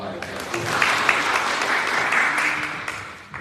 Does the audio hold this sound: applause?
yes